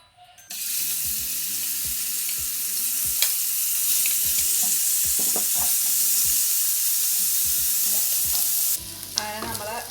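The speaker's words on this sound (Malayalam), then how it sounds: "ചിക്കൻ മാരിനേറ്റ് ചെയ്ത് വെച്ചിട്ടുണ്ടായിരുന്നതാണിത്. ഇത് നമുക്കൊന്ന് ഫ്രൈ ചെയ്തെടുക്കാം." Marinated chicken frying in hot oil in a pan, a loud bright continuous sizzle with frequent knocks and scrapes of a spatula against the pan, then a quieter hiss at the end.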